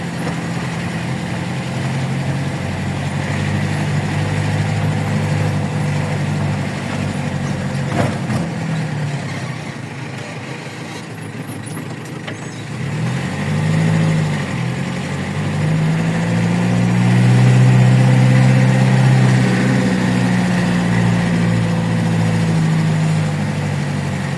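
A vehicle engine runs steadily throughout, a low rumbling hum that swells louder toward the end, with no talking.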